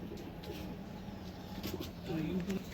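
Pigeons kept for flying coo steadily throughout, a low murmuring layer that grows a little louder near the end, with faint background activity.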